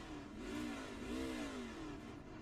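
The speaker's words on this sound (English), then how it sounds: "revving that engine" A truck engine in the iRacing truck series at Charlotte revs up and down in two rising and falling sweeps, a mid-pitched motor tone held at a modest, steady level with no voices.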